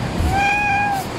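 A cat at a Varadero resort in Cuba gives a single clear, close meow lasting about a second, rising slightly and then falling away.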